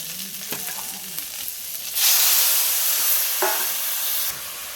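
Potato and onion frying in a pan: a close, steady hiss that swells louder partway through and holds as a bright sizzle.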